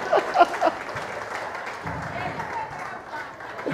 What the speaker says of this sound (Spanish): ¡Aplausos a esos hombres!